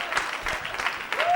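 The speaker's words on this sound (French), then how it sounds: "they clap for Jesus." A church congregation clapping in praise during a French-English sermon, a steady mid-level patter of many hands with some voices mixed in, lasting just over a second.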